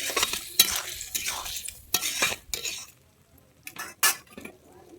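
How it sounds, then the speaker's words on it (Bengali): Paneer cubes are stirred through a butter masala gravy in a pan, giving close, irregular bursts of scraping and metallic clinks from a spoon, separated by short quiet gaps, with a faint sizzle underneath. "পনিরটাকে দিয়ে আমি ভালোভাবে নেড়ে নিচ্ছি"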